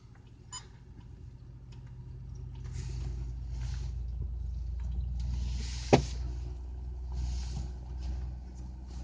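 A Range Rover creeps slowly along an off-road track near Montreal, its low engine rumble steady and close, rising gently over time, with scattered rattles, a sharp knock midway and faint voices now and then.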